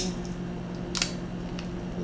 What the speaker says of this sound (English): make sure you use your scissors so you get a straight